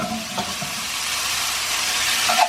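Soba noodles being stir-fried with broccoli and mixed vegetables in a pan give off a steady sizzle, with a few brief stirring clatters near the start and end.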